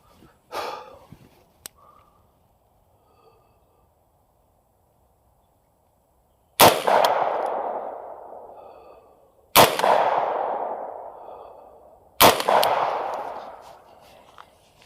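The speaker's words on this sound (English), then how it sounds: "I'm going to go ahead and shoot the top of the target" AR-15 rifle fired at a paper target at a 100-yard range: four sharp, loud cracks spaced several seconds apart, each with a ringing decay. The first shot is quieter and shorter than the three that follow.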